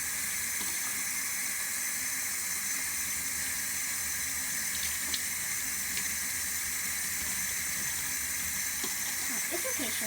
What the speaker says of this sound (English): fill it completely up with water and do it. Make sure you get all the soap off.